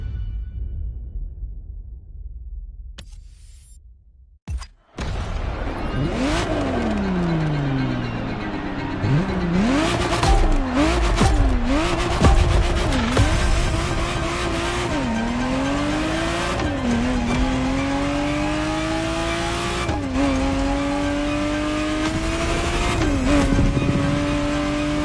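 A Ferrari Testarossa in The Crew Motorfest video game revs hard through repeated gear changes, the engine pitch sweeping up and dropping again in a steady rising pattern, with tire noise underneath; loud, close and continuous, no talk.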